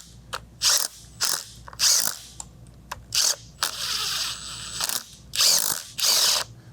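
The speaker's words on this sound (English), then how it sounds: "we'll go ahead and use our impact just to run those down" An impact wrench runs down the bolts on a centrifugal blower bearing housing, firing in short, loud, rattling bursts separated by brief pauses, about nine rounds in quick succession.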